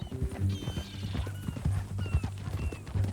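A horse's hooves clop in a steady rhythm close by in the Red Dead Redemption 2 video game, with a neigh or whinny rising over the hoofbeats.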